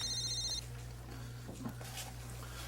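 A telephone bell rings in a steady electronic trill for about half a second before cutting off, leaving a low hum and faint room noise.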